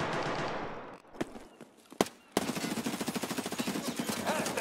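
Automatic gunfire in Escape from Tarkov: Arena, a few isolated sharp shots followed by a long, rapid, steady burst of close, fast-repeating rounds.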